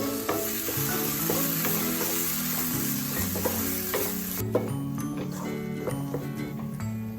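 Raw mango and ground paste sautéing in a pan, a continuous close sizzle with regular scraping stirs and light clinks of the spoon against the pan.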